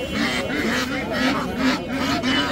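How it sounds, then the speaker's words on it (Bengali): A Chinese goose at a village market in winter gives loud, close, repeated honks in a steady rhythm of about four calls, with market noise behind. "এটা হচ্ছে গিয়ে চীনা হাঁস।"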